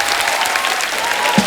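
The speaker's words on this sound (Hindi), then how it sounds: "जोरदार तालियां एक बार ट्रेलर के लिए" A studio audience on a comedy talk show claps loudly for a film trailer, a brief, dense burst of crowd applause heard up close with a faint tonal hum underneath.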